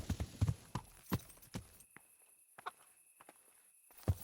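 Horse hooves clip-clop at a slow walk in the medieval game Kingdom Come: Deliverance, producing irregular, fairly quiet thuds that fade to a few sparse steps, with no talking.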